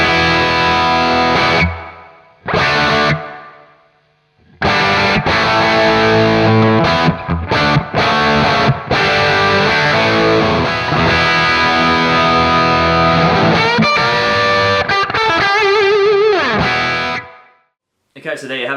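Electric guitar played through a Kemper profile of a Marshall Plexi 68 Super Lead, distorted hard rock tone with added reverb, loud riffs and sustained chords with brief pauses and a ringing final chord, no talking.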